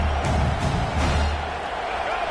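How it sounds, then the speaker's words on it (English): Football stadium crowd during a South Carolina vs Miami game roaring on a third down, a broad swell of cheering with a few whoops that gradually eases. "Big 3rd down as the crowd gets behind this defense."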